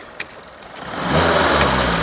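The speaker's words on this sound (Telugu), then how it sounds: "సింగిల్ సెల్ఫ్లో కార్ స్టార్ట్ అవుతుంది" A 2022 Maruti Suzuki Swift Dzire ZXI petrol engine cranks and catches, then settles into a steady, close idle that grows louder after about a second.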